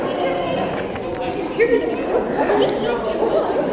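Dogs during an obedience training session, with scattered yips and small barks mixed into steady chatter and a trainer's encouraging voice, the canine sounds moderately close but partly masked by talk.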